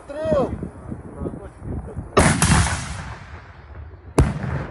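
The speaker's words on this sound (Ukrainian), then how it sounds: "Постріл!" Gunshots in war footage come as two sharp, loud reports about two seconds apart, each with a decaying echoing tail. Voices are heard faintly in the background at the start.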